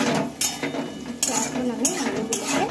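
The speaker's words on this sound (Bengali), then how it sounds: "অল্প একটু হলুদ দিয়ে নেবো, একদম অল্প। ভালোভাবে একটু নেড়ে চেড়ে নেবো।" Boiled potatoes stirred with a pinch of turmeric in a pan, with a utensil scraping and clinking against the metal in a few distinct bursts between softer shuffling, close and moderately quiet.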